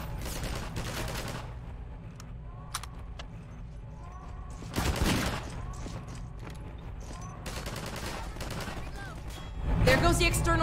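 Bursts of gunfire from a firefight against an enemy in the video game Half-Life 2, loudest around the middle and end, with someone talking over much of the action.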